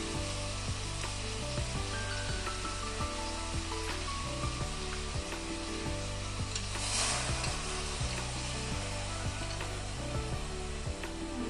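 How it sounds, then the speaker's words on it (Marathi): Tamarind pulp is poured into a sizzling pan while cooking dried Bombay duck curry; the pan sizzles steadily and loudly, with a continuous frying hiss and no talking. "वरून चिंचेचा कोळ टाकूया."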